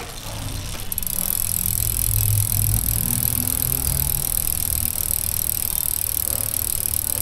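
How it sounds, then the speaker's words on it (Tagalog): A Foxter Wind budget aero road bike's rear hub freewheels with a fast, even ticking that runs continuously at close range, set against a loud steady background hum and no talking. "Then i-check naman yung tunog nito kapag naka free wheel."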